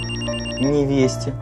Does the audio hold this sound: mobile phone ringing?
yes